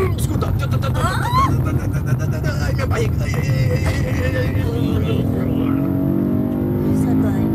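A car drives hard around the Nürburgring circuit, its engine roaring steadily close up with revs rising and falling, while people talk excitedly inside.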